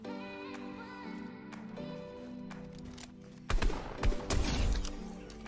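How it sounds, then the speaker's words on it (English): Another player's gunfire in Fortnite, a few sharp shots bursting in near the end after a sustained tonal hum of game ambience, loud and close. "they're shooting with that annoying gun"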